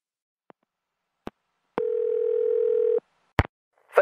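A steady telephone dial tone holds for just over a second between a few sharp clicks of a handset, loud and close, as a call to an airline's automated line begins.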